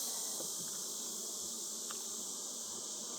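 Honey bees buzzing at an open backyard hive, a steady soft drone of many wings close by with a few louder passes near the ear.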